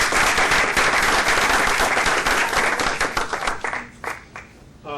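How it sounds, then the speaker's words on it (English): Loud applause from a crowd at a community group's general meeting, dense clapping that holds steady for several seconds, then thins into scattered claps and fades near the end. "So a round of applause to that business."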